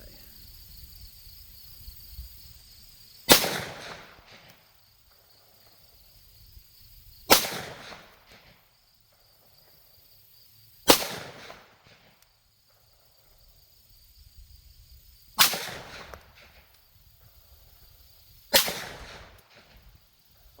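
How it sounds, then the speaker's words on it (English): Five loud, sharp gunshots from an Echelon pistol ring out one by one at roughly even intervals of three to four seconds. Each is a close, cracking report with a short decay, and the gaps between shots are quiet. "load up the Echelon, and 5 rounds out of this guy"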